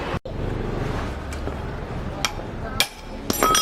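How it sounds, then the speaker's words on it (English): During a clutch repair, an impact screwdriver is struck with a hammer, giving a few sharp metallic knocks spaced over a few seconds against a low rumbling background. "It's like an impact screwdriver here."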